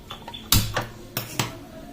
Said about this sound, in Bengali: কড়াই নিয়ে নিয়েছি।